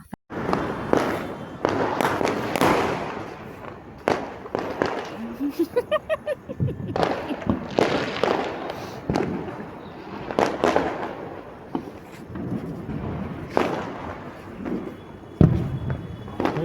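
Diwali firecrackers and fireworks go off again and again, with sharp pops and loud bangs at irregular intervals and a rapid crackling string in the middle, some near and some farther off.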